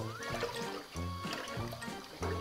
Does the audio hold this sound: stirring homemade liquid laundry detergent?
yes